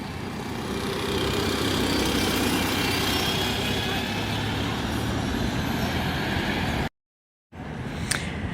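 A bus pulls away from a stop on Clarence Street with a loud, rising engine rumble and broad road noise close by, holding steady for several seconds before cutting out, then a brief hiss returns.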